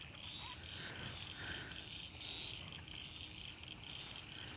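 Frogs croaking and insects trilling together in a peaceful rural outdoor spot, a steady, dense chorus with a constant chirring band, several voices layered at a moderate distance and no talk.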